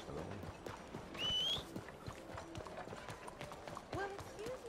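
Horse hooves clip-clop in Red Dead Redemption 2, a light, steady rhythm at moderate distance under game sounds, with a whistle and a person talking over it.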